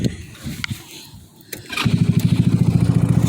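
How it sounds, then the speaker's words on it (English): A Trailmaster 150XRS buggy engine cranks briefly and then catches, settling into a loud, steady, pulsing idle close by, in cold sleeting weather. "Sweet starting buggy."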